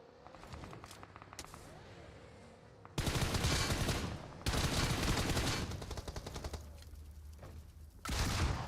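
Rapid automatic gunfire in the mobile battle royale game BGMI during an esports match, loud bursts of sustained shooting starting around three seconds in and returning near the end, over quieter scattered shots and game ambience.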